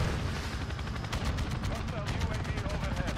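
Rapid gunfire in a video game as a chopper gunner is shot down, a dense run of sharp shots over a loud rumbling battle background.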